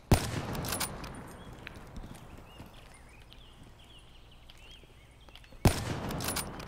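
Two sharp gunshots from the Black Ops 3 video game, one at the start and one near the end, loud and close, separated by a stretch of quiet game ambience.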